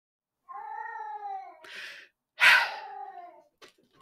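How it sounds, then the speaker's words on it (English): A cat yowls in a drawn-out, wavering wail, falls silent briefly, then lets out a second harsher, louder cry that trails off, close by with no talk over it. "My cat has to have a fucking psychotic breakdown."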